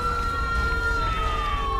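An ambulance siren in GTA 5 with the LSPDFR police mod, a steady wailing tone that slowly falls in pitch as it passes, heard over a rumble of traffic and engine noise.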